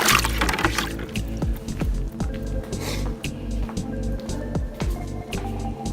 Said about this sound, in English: rinse them off for now